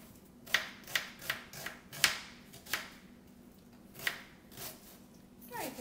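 A knife chops a small onion on a board, about a dozen crisp, uneven strikes close by, some in quick pairs and others spaced apart, in an otherwise quiet room.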